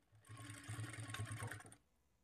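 A sewing machine runs steadily for about one and a half seconds while stitching along a plain blouse neckline, with a fast even mechanical patter that starts and stops abruptly, close and alone.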